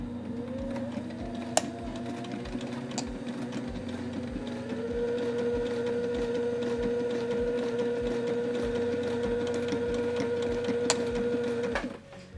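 A sewing machine runs a continuous hem stitch with a steady, rapid mechanical clatter and a motor hum that rises slightly partway through, then stops near the end.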